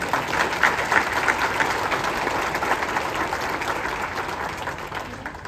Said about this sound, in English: So would you mind giving a round of applause for those folks?